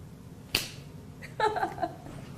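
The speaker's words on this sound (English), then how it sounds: "I need to still snap my fingers" A single crisp finger snap rings out sharply near the start, followed by a soft, brief rustle of shuffled playing cards during a close-up card trick.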